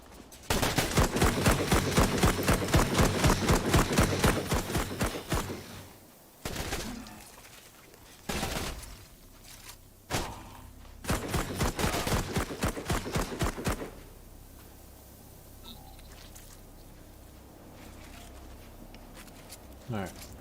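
Rapid automatic gunfire from a hostile robot in the sci-fi game Memories of Mars, loud sustained bursts with short gaps, a final burst around the middle, then quieter ambience with faint talk.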